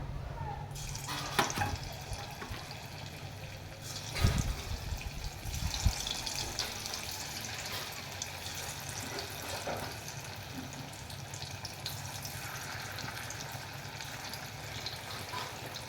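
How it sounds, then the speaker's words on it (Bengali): Soybean pakoras sizzling as they are dropped one by one into hot oil, a steady crackling fry with a few sharper splashes early on, close and moderately loud, no talk. "সয়াবিন পকোড়া আমি তেলের মধ্যে একে একে ছেড়িয়ে দেবো"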